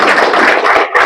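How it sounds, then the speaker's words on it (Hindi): A business networking audience breaks into loud, close clapping, a thick burst of many hands that briefly thins near the end before picking up again. "आए ताली मार सकते हो यार।"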